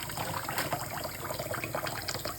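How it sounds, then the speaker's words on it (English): Tap water runs over a surgical instrument as it is rinsed by hand, a soft, steady splashing trickle that stays quiet and close. "Rinse this manually."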